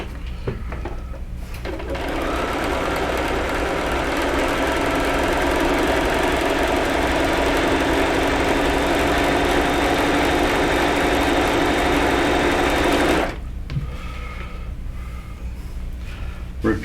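A sewing machine runs in one long steady stretch of about eleven seconds, stitching quilt blocks onto a strip for a Noah's Ark quilt, loud and close, with quieter handling before and after.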